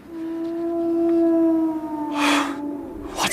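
Howling cry of a hound on a moor in a radio drama: a long, sustained wailing tone that swells and slowly bends downward, joined near the end by breathy gusts of wind-like noise.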